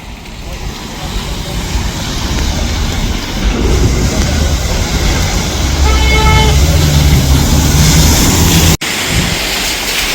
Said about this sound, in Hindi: ये जो ट्रैफिक का ज़्यादा रश नज़र आ रहा है